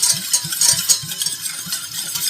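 A spoon stirs a vegan Worcestershire sauce substitute made with spices and cider vinegar, giving close, rhythmic scraping and swishing strokes at an even pace.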